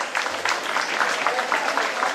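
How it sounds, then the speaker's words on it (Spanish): Audience at a Teachers' Day celebration applauding, a steady wash of many hands clapping at moderate volume with a faint rhythmic pulse throughout. "Fuerte los aplausos, por favor."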